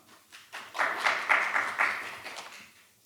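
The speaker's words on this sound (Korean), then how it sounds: "자, 큰 박수 부탁드리겠습니다" An audience at a Korean seminar on unmanned mobility commercialization bursts into brief applause that swells quickly, holds for about two seconds, then fades away.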